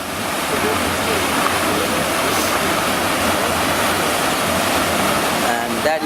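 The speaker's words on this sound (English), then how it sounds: "That is where water is being released from." Water released from a dam near Punakha, Bhutan, roars as a loud, steady, broadband rush, continuous from start to finish.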